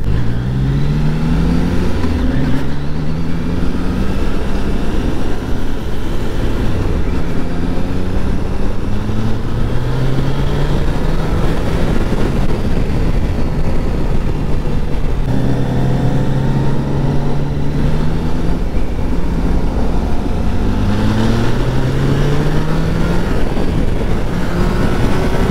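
A Triumph Tiger Sport 660 motorcycle engine runs loud and close, with rising and falling revs repeating through the gears under steady wind noise.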